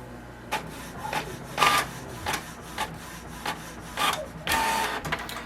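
A Canon Pixma MG3640 home inkjet printer prints, giving a series of quiet mechanical whirs and short paper-feed rasps in an uneven rhythm, with a longer burst near the end and no talking.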